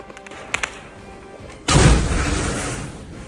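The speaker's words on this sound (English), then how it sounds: "Explosions heard at the entrance to Belgorod." A heavy explosion booms suddenly at the entrance to Belgorod and rolls on as a long rumble. A few sharp cracks come before it.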